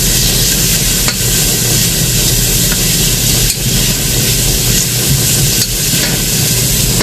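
Meat frying in a pan with loud, steady broadband sizzling, with occasional scraping knocks from stirring, close and continuous.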